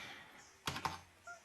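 A computer keyboard gets a few soft keystrokes, two close taps in quick succession and a fainter one after, quiet and near in a still room.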